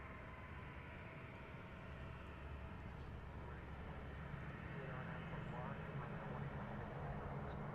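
An American Airlines jet at DFW airport takes off with a steady, broad roar of engine noise that holds at a constant loudness throughout, heard from a distance with a continuous low rumble.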